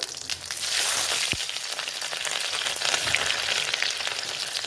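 Cumin and green chillies sizzle in hot oil for egg bhurji, a steady close frying hiss with crackling spits, rising a little after the first second and holding on without talk.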